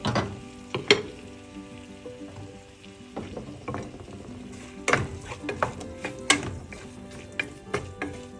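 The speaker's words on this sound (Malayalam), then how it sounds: "എല്ലാം കൂടെ ഒന്ന് വരളിട്ട് ചെറിയ സിമ്മിലിട്ട് വഴറ്റാം." Onions and spices sauté on low heat in a pan for a spicy sole fish curry, a soft continuous sizzle broken by irregular scraping stirs and sharp utensil clinks against the pan.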